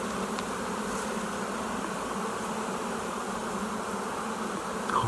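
Honeybees hum steadily inside an open hive whose combs hold nectar and brood, a dense, even buzz filling the air close by for the whole stretch with no voices.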